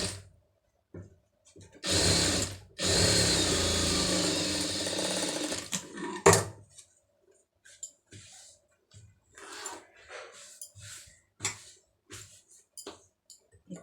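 Sewing machine stitching plain cloth for a neck design, with a steady mechanical whir running for a few seconds, then short stop-start bursts and scattered clicks of handling the fabric.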